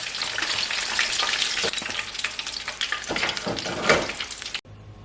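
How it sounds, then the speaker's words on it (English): Loud, crackling sizzle of chicken wings frying in hot oil, continuous and close, with a brief quieter tail at the end. "so these have been frying about 5 minutes"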